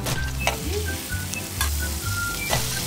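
Squid dropped into a hot pan sizzles and crackles steadily up close, with a low rumbling hiss and occasional clinks of utensils; no one speaks over it.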